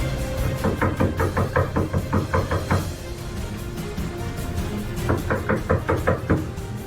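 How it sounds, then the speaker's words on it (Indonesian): Late at night, someone raps repeatedly on a door in fast bursts of four to six close, hollow knocks, with a pause between two rounds, loud and near in a quiet room. "Jadi ada beberapa mode ketukannya yang tok tok tok tok sama duk duk duk duk duk."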